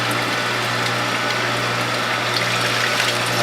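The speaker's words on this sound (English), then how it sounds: "I'm going to very carefully pour this into the collection bowl." Sunflower dill vegetable juice from a WHF juicer is poured into a collection bowl, a steady liquid gush under a constant low mechanical hum, close and fairly loud, with no speech.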